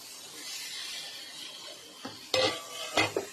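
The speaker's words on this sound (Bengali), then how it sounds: "ভালো করে একটু নেড়ে ছেড়ে দিতে হবে যাতে ডিমের গায়ে মশলাগুলো ভালোভাবে লেগে যায়" Egg curry with fried eggs and spices is stirred in a pan, a faint sizzle under a few soft scraping and clinking strokes of a utensil near the end.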